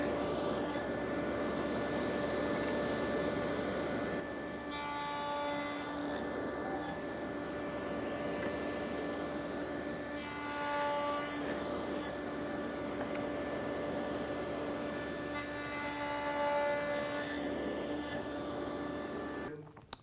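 Stationary power saw cutting wooden slats for a coffee table with cross lap joints, each slat indexed over in turn: a steady loud machine drone runs throughout, with brief bursts of cutting noise repeating every few seconds.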